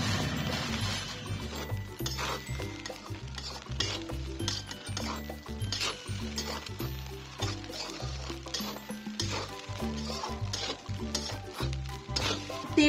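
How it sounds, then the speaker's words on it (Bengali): A spatula stirs egg and prawn fried rice in a frying pan, producing continuous close scraping and tossing over a steady sizzle, with occasional clinks against the pan. "এবার ভালো করে নেড়ে"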